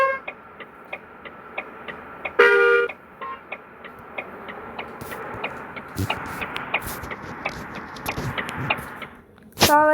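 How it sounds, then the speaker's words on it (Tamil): Short car horn honks sound twice, near the start and the end, over a steady ticking hum and faint traffic noise. "ஸோ வந்து பாருங்கள் ஹார்ன் அடிக்கிறேன்"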